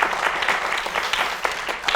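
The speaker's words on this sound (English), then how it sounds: "A little applause, please, for his playing." During a violin master class on a Bach sonata, a room of listeners claps for a young violinist's playing. The applause is brisk, close and uneven, with sharp individual claps standing out over two seconds.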